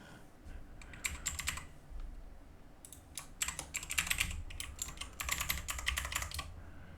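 Close computer keyboard typing in quick irregular bursts of clicking keystrokes as a password is entered, with short pauses between runs and no talking.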